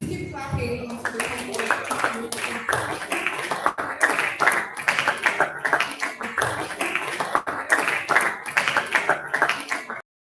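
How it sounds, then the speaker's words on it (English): Audience clapping fills a hall during an energy summit as a section director is introduced, steady dense applause running the whole stretch with voices mixed in. "Please keep clapping"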